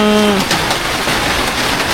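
Steady rain hisses continuously throughout, a dense, even patter with a brief voice at the very start.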